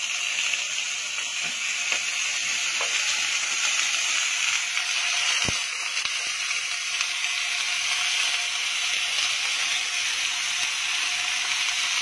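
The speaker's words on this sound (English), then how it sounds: "I'm just going to transfer this to a hot pan" Longganisa sausage fries in a hot pan with a steady, loud, broadband sizzle and hiss, plus a few faint clicks and taps, and no talking.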